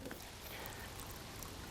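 Water pours steadily into a pot or kettle for camp-style coffee outdoors, a continuous soft splashing rush throughout, fairly faint and close with no talking.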